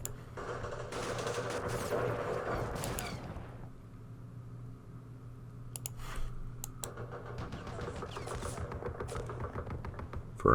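Simulated machine gun fire in the Vietnam war game Campaign Series Vietnam, rapid bursts of crackling shots in two loud clusters separated by a quieter gap with a few isolated reports, over a low steady hum.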